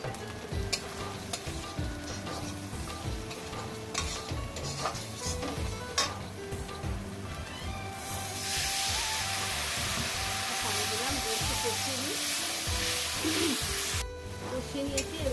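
Jackfruit and shrimp sautéing in a pan with turmeric and ground coriander-cumin, with repeated spatula scrapes and clinks over a steady sizzle that swells into a louder, denser frying hiss midway, then eases.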